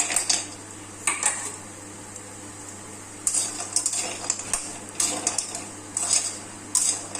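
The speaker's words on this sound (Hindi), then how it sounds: "अब इसमें हम बड़ी को तल लेते हैं।" Lentil dumplings (badi) frying in hot oil for a Chhattisgarh aloo badi curry, heard mostly as intermittent metallic clinks and scrapes of a utensil against the pan over a faint background hiss, no talking.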